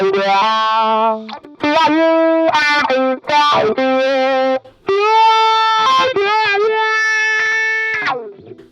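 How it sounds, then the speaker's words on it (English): A Sonicake VolWah pedal in wah mode colors a dirty electric guitar on the bridge pickup, loud distorted chords and riffs sweeping between muffled and bright tones, played alone in close, choppy bursts. "and this is what the wah sounds like."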